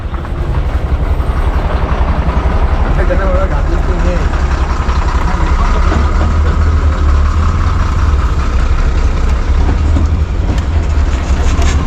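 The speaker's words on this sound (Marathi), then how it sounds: "वस्तीची गाडी आलेली आमची" A loud, steady MSRTC state transport bus engine idles with a constant low rumble throughout, and muffled voices are faintly audible beneath it.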